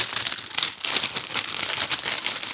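Crinkling plastic wrap as a 40 by 40 cm, 11-count counted cross-stitch kit is unwrapped, continuous close rustling and crackling for a couple of seconds, with no talking.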